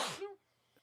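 A single sharp sneeze bursts out loudly and close, a breathy rush with a short voiced tail, followed by near silence.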